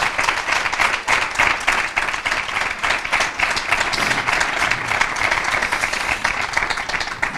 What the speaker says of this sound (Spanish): me gustaría darle un aplauso a estos 14 restaurantes